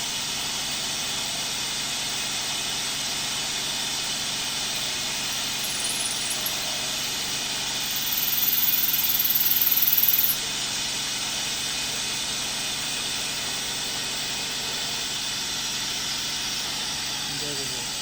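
Compressed air blows as coolant onto a part being machined. It makes a loud, continuous hiss that swells briefly partway through, then settles back to a steady rush.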